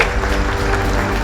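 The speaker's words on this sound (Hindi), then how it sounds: "बजाओ तालियां।" Applause from a crowd fills the scene with dense, steady clapping at close range and no pause throughout.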